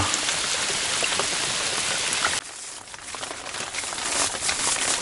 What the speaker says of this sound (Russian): ливень начался